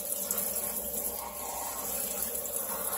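Tap water runs in a steady, loud, unbroken rush as a poultry heart is rinsed under it in a home kitchen.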